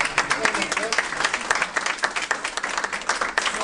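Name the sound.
audience applause for Jeff Verdugo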